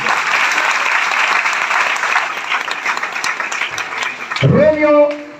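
Congregation at a church sermon applauding loudly, a dense sustained roar of many hands clapping that fills the space, with a voice breaking in near the end.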